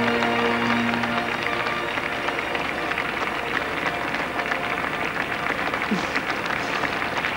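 Outside a royal wedding, a large crowd gives a steady, broad wash of cheering and clapping, distant and continuous with no clear breaks.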